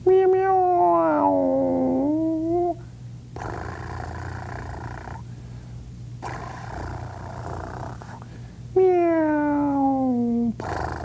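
A person imitates a cat, giving long drawn-out meows twice, separated by breathy pauses and quiet rustling.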